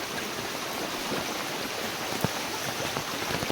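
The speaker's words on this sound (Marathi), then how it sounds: "पाऊस पडतोय आणि हा वाहता पर्या व्हाळ" Constant rushing water of a stream beside a house mixed with the patter of falling rain, a dense steady hiss with occasional distinct drops, no talking.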